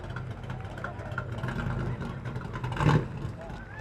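Trucks rolling past in a Veterans Day parade in Franklin, engines humming and revving nearby with a louder surge near the end, under crowd chatter and talking.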